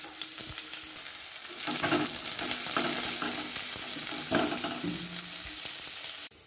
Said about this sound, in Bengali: প্রথমে আমি বেরেস্তাটা ভেজে নেব